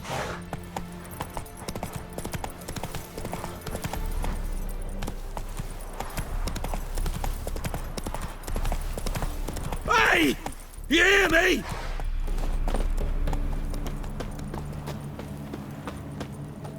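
Roach the horse gallops in The Witcher 3: Wild Hunt, with steady, rhythmic hoofbeats running throughout and a voice calling out briefly partway through.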